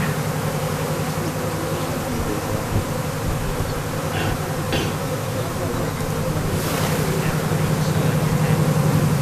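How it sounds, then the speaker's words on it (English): Honey bees are shaken out of a hive frame, giving a dense, continuous buzzing swarm close by that swells slightly toward the end, with brief knocks and rustles mixed in. "So we're going to shake the bees out, right?"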